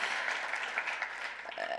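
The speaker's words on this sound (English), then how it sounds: "I think we can applaud." At a research and doctoral award ceremony, an audience gives a brief round of applause, a soft, continuous wash of clapping from a hall, somewhat distant and steady throughout.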